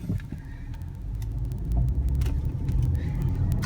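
A 2013 Cadillac CTS Performance coupe drives along with a low, steady engine and road rumble heard from inside, growing a little louder midway, with faint ticks and clicks over it.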